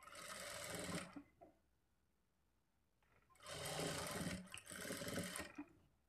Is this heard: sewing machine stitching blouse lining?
yes